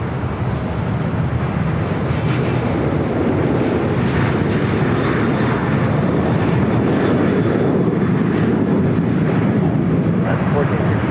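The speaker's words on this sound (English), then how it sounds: "Hawaiian flight 77, A330-200, heading to Honolulu, heading up here for Northside takeoff." An Airbus A330-200 airliner takes off at LAX, its jet engines giving a loud, steady broadband roar that holds for the full span with no break.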